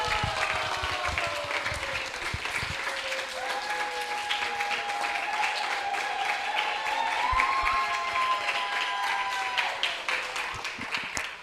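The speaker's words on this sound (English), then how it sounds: "I want you to give her a big round of applause from the bottom of your hearts" Applause from a temple audience honouring a woman's many years of service, a steady sustained patter of clapping throughout with tonal voices or music drifting over it.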